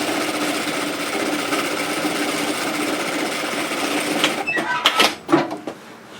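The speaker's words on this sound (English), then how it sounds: "I'm just going to create a little top stitch or an edge stitch" A sewing machine runs a steady, close whirring edge stitch along a lined tote bag, then stops, followed by a few sharp clicks and clatters as the fabric is handled.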